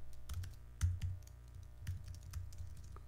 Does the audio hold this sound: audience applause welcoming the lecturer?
no